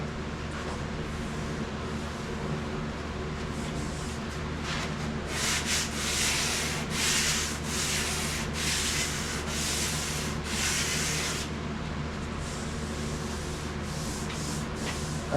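Hand sanding a car body, working along the body lines, gives a steady, close abrasive rubbing that runs throughout with rhythmic swells in the scraping strokes and no talking.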